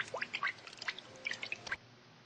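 Dripping water in the mobile survival game Buried Town, a quick series of small, bright liquid drips over about two seconds, then silence.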